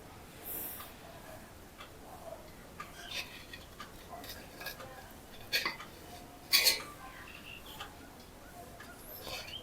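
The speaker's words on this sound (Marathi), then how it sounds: "किंचित वाफ निघून गेल्यानंतर आता हे आपण कापून घेऊ." Soft ghee dhirde pancake being cut in a pan, faint scattered ticks and light metallic scrapes of a utensil against cookware, with a couple of louder clinks, quiet room and no talking.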